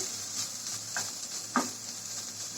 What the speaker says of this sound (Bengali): পেঁয়াজটা হালকা একটু ভেজে নিচ্ছি